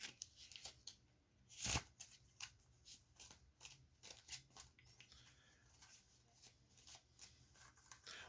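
A small tarot card deck is shuffled by hand close up, with soft rapid riffles and taps, one sharper flurry near the start, and no talk.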